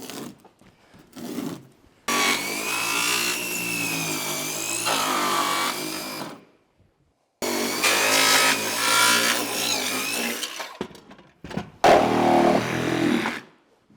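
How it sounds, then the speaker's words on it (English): A circular saw and a Sawzall cut through wood while working on a 1950 barn, with loud close bursts of buzzing cutting separated by short pauses. "Skill saw, and then we'll have to go through the Sawzall and clean up webs and stuff."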